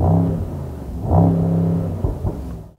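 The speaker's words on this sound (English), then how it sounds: "A proper AMG rumble and burble." A Mercedes-Benz SL55 AMG with a turbocharged V8 rumbles loudly up close, swelling in a rev then settling into a deep burble with a couple of pops before cutting off.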